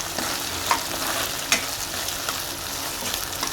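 Soya chilli sauce thickened with cornflour water is stirred in a pan, giving a steady low sizzle with a few soft spoon scrapes and clicks.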